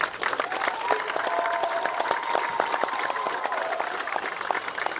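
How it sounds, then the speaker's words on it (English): A stadium crowd at an eighth grade moving-up ceremony claps steadily and densely throughout, a sustained, fairly loud round of applause with a faint tonal hum and crowd murmur beneath. "can I get one more round of applause for them?"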